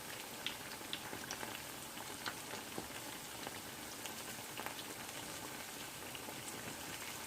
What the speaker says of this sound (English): So make sure you're frying this on the medium heat